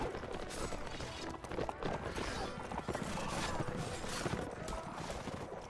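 Rapid hoofbeats of galloping Rohirrim war horses drum steadily beneath a dense clatter of Rohan versus Isengard game battle noise, loud and continuous throughout.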